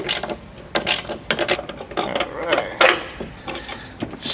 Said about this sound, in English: next we remove this 17mm bolt